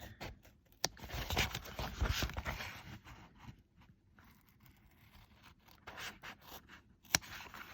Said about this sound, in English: I'm going to cut my craft foam with a pair of scissors